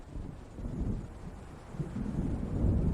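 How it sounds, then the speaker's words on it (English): Low rumbling thunder from an approaching storm in the video game Alan Wake Remastered rolls steadily under wind and water noise, building slightly louder toward the end, with no voices. "It seems there's a storm coming."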